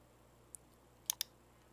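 A computer keyboard key is pressed with a faint click, followed by a quick pair of sharper clicks against a quiet room hum.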